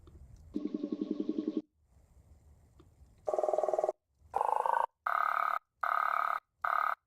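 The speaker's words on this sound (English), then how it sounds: "Take frog samples and pitch them way down." Frog calls are pitched far down into a series of low, buzzing, droning tones. A long burr and some rumble give way to several evenly spaced electronic-sounding bursts, loud and close with no talking.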